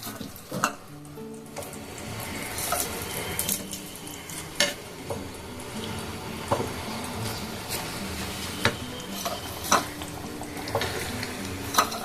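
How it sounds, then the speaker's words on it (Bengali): Pieces of rohu fish are laid one by one into masala frying in a pan. A steady sizzle runs throughout, with sharp clacks and scrapes of a spatula at regular intervals and no speech. "এখন যে মাছগুলো আছে আমি সব একটা একটা করে দিয়ে দেবো"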